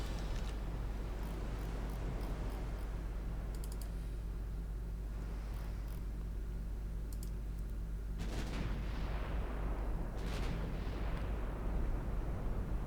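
Naval shells striking a light cruiser in Ultimate Admiral Dreadnoughts, muffled booms and rumbling impacts rising over a steady low engine-like hum, with two heavier hits landing late in the stretch.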